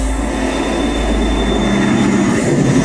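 A train travelling on rails, heard from inside as a loud, steady low rumble with a constant roar and a faint whine above it.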